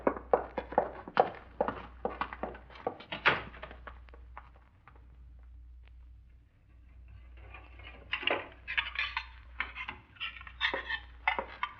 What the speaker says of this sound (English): I got dishes to do and this joint to clean up